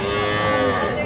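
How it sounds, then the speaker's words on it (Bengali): A bull calf at a farmers' cattle market in Cumilla, Bangladesh lets out one loud, sustained, close moo that fills the whole moment. "এইটাও একটা ষাঁড় বাছুর"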